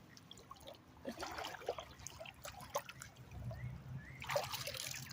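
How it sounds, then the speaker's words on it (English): Splashing steps wade through shallow stream water inside a cave, faint and close, with irregular trickling sloshes and a few sharper splashes spaced unevenly through the stretch. "I can't normally walk in the water, so I'm going to take advantage of it while I'm here."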